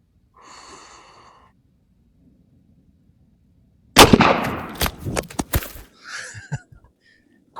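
A 6.5 Grendel rifle fired with a Hornady 123 grain SST load for a ballistic gel test: one sharp, loud report followed by a few scattered thuds and clatter, after a brief quiet breath-like noise.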